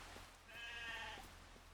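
Young lambs bleat softly on a farm in Farming Simulator 25, with one clear wavering bleat in the middle over a faint, steady background hum.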